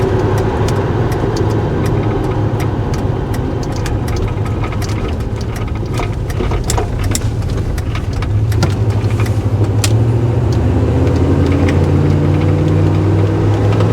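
A 1990 Chevrolet K1500 pickup with a stock 350 engine accelerates, its steady mid-low engine drone rising slowly under road noise and occasional clicks, heard from inside without speech.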